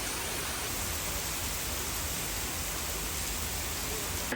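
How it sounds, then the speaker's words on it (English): Heavy rain during a Texas thunderstorm pours down in a dense, steady hiss that fills the whole stretch without a break. "rain picked back up."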